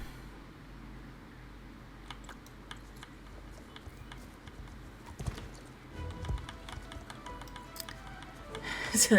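Horse hooves galloping in the online game Star Stable Online, a quiet rhythmic clip-clop of a running horse under background music and game sounds, growing louder toward the end.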